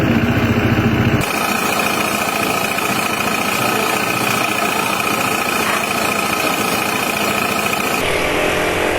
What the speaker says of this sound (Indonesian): Itu suaranya emang kasar banget lah.